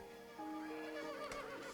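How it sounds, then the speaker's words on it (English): A horse neighs loudly in Zelda: Breath of the Wild, a long wavering whinny that rises and trembles before fading, heard alone and close. "If you're gonna jump on a horse, obviously it's gonna react like that, just like in the game it would."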